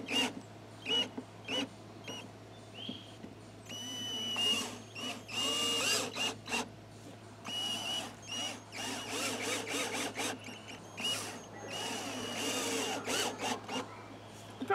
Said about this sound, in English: Now I'm fastening the bearing down with some screws.